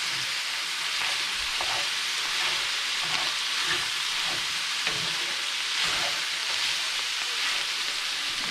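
Meat, cooked through for spaghetti and meatballs, browns in a frying pan with a steady, close sizzle and hiss, marked by a few soft stirring scrapes and spatters, with no talking.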